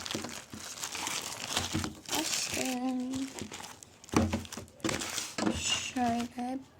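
A cargo package holding a magazine is wrestled open, with crinkling and tearing of plastic wrap that stops and starts under a person talking close by.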